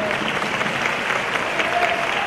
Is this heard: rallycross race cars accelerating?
no